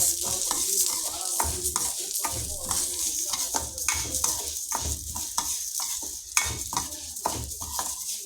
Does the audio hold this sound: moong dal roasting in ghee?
yes